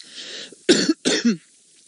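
Two close, sharp coughs in quick succession, loud and alone, after a moment of quiet breathy noise.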